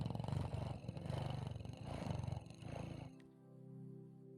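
A person imitates a cat purring with a low, rhythmic rolling rumble in pulsing bursts, close to the microphone, ending in a quieter steady hum.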